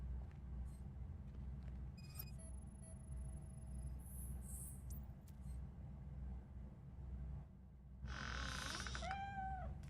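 A cat meowing in a video game, a few clear rising and falling meows near the end over a constant low engine-like rumble, with brief electronic tones earlier.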